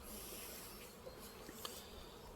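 Bees robbing hives in an apiary make a faint, steady, swarming buzz that holds throughout, with a few soft ticks and no speech.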